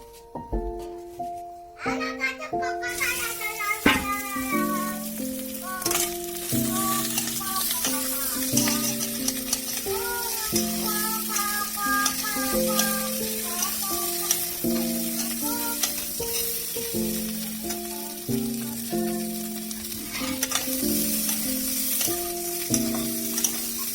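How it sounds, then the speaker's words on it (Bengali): Boiled, peeled potatoes fry in oil for Bengali-style dum aloo, a steady close sizzle that runs for the whole stretch beneath prominent melodic background music. "এখন তেল দিয়ে 5 মিনিট ভেজে নেবো হালকা করে।"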